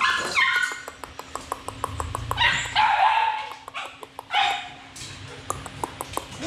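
A Phu Quoc dog at a breeding kennel barks in a rapid run of short, sharp yips and barks, close by, with someone talking intermittently over them.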